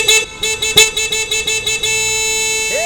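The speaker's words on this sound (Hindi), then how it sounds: "इतनी ट्रैफिक में तुम्हें जोर जोर से हॉर्न बजाने की क्या जरूरत है?" Repeated car horn blasts in a traffic jam, several short honks in an uneven rhythm followed by one long sustained blare, loud and close with no talk over it.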